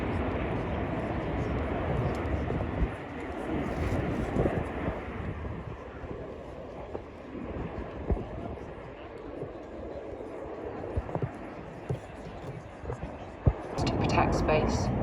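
RAF Red Arrows jets run in and break to land at the RIAT 2025 air show, a broad, sustained roar of jet engines rising and falling over fifteen seconds, with faint voices in the background.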